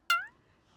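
A single short cat meow, close and clear, rising then fading quickly with nothing else around it.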